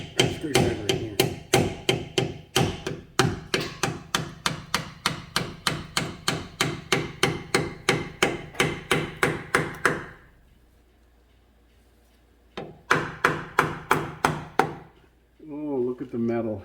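A hammer drives a punch against the differential cover of a 2011 Ford F150 with a failed pinion bearing, a close, steady string of sharp metallic blows, then a pause and a shorter second burst.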